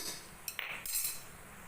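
Cooked snake gourd is lightly mashed in a pot, making a few short metallic scrapes and clinks of a utensil against the pot, brief and quiet against a soft background.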